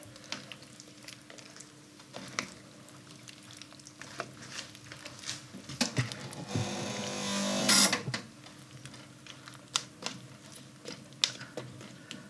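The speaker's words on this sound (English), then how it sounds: "So I stir the meat in so that it's not just in one spot" Pork stew meat is stirred in a pot, with soft scraping and clinks over a low background and a brief louder sizzling burst in the middle.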